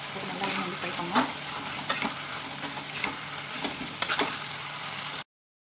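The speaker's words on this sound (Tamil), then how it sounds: "போட்டு நல்லா வந்து ஃப்ரை பண்ணணும்." Mint, coriander and onion masala frying in a pan, with continuous sizzle and intermittent stirring scrapes at a moderate distance, then sudden silence.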